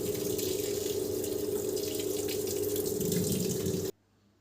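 Top-loading automatic washing machine drawing in water at the start of a white and colour wash, a steady rushing fill that runs continuously and then cuts off abruptly.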